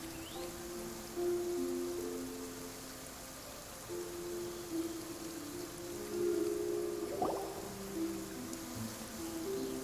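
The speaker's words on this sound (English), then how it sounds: "It's raining right now." Steady rain in the Genshin Impact video game, a soft continuous patter over a low game music bed, with one brief brighter splash partway through and no voices.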